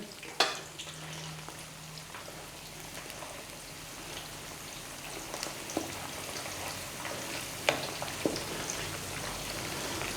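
Chinese gravy paste with spices fries in a pan with a steady, crackling sizzle like light rain, punctuated by a few sharp utensil knocks and scrapes as it is stirred, with no one speaking.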